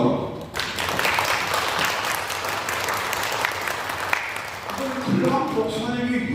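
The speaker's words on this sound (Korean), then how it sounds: "박수 한번." A church conference audience breaks into a burst of applause, dense clapping from many people filling the room for several seconds, with a voice heard over it toward the end.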